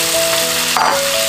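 Chicken pieces, freshly killed from a home flock, tipped into a hot wok over ginger, garlic and chilies, setting off a steady loud sizzle with a brief louder burst as the meat lands.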